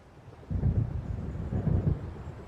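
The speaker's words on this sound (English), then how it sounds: "It seems there's a storm coming." Low rolling thunder from an approaching storm in the video game Alan Wake, two deep rumbling swells over a faint windy background, with no voices.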